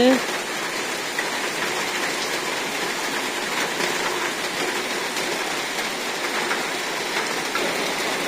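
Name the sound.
rain falling during sudden storm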